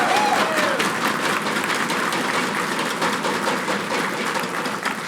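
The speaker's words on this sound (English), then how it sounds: "I think they deserve a big round of applause" Sustained applause from a crowd at an election night speech in Swift Current, Saskatchewan, steady and dense clapping filling the whole stretch at even loudness before easing slightly at the end.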